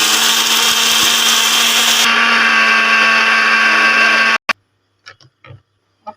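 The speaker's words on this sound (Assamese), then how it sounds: "ইয়াত পিঁয়াজ আৰু নহৰু আৰু আদা দি কিনি এইখিনি পেষ্ট কৰিব এতিয়া মিক্সাৰ" Mixer grinder whirring loudly as it grinds onion, garlic and ginger with a little water into paste, a steady high motor whine that changes pitch midway and then cuts off, followed by a few faint clicks.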